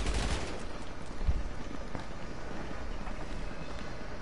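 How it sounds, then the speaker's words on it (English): Gunfire from another player in GTA 5 Online cracks out in dense bursts over a noisy wash of game sound, moderately loud and fairly close, with no talk. "There's a guy shooting at me."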